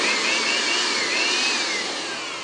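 A repaired electric air dust blower of the Ronex brand runs close and loud with a continuous high whining rush that holds steady throughout.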